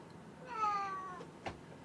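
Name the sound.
cat meowing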